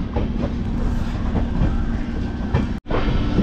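A passenger train runs steadily on rails out of Howrah toward Dakshineswar, a loud continuous rumble with rhythmic clatter close by, broken by one sharp brief dropout near the end.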